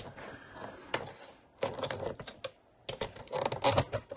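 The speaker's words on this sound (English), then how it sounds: "so I'm going to trim this down a little bit" Paper being trimmed for a handmade folio, giving a run of crisp, irregular snipping and rustling sounds in short clustered bursts with brief pauses, close and fairly loud, with no talking.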